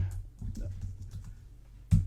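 A computer keyboard sits behind the microphone while someone types soft, quick keystrokes at a low level, ending with one louder thump.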